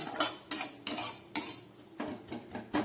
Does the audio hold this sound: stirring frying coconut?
yes